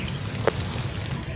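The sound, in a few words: rain getting heavier at a river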